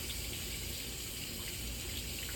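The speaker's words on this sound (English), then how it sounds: "Now I'm gonna rinse my hands off" Running sink tap water pours steadily while hands are rinsed, a continuous close hiss with no pauses or speech.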